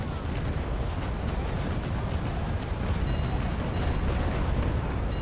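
Ship cannon fire in the Naval Action game during a fleet battle against pirates, a dense, continuous rumble of booming broadsides rolling together, loud and sustained with no pauses.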